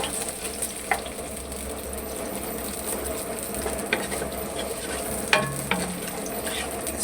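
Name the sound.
whole spices frying in a pot for Kabuli pulao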